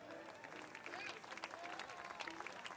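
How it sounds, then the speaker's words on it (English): Audience applause for a live band, a steady wash of clapping from a crowd with voices and whistles mixed in throughout. "give these guys a big round of applause"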